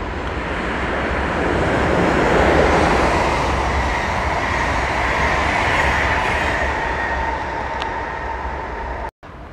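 An ICE high-speed train speeds through Benrath station in Düsseldorf with a loud, steady rush of wheels and air that holds for nearly ten seconds before cutting off abruptly.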